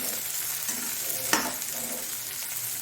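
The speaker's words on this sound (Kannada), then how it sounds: "ಮೀನನ್ನು ಹಾಕಿ ಈ ಮಸಾಲೆ ಒಟ್ಟಿಗೆ ನಾವು ಅದನ್ನು ಮಿಕ್ಸ್ ಮಾಡಿಕೊಳ್ಳೋಣ" Fish frying in masala on a hot tawa while being stirred, a steady sizzle with a sharp scrape of the spoon near the middle.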